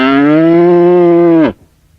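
A single long cow moo from an animated farm village scene, loud and close, a sustained droning bellow lasting about a second and a half before ending abruptly, with no speech.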